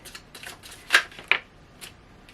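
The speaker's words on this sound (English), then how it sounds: "we're going to do a couple more shuffles here" Tarot cards are shuffled briefly, a few soft riffling flicks and taps, quiet and close, with no one speaking.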